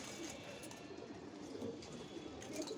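Pigeon coos repeat softly over a steady background hiss, with a few faint bird calls mixed in throughout.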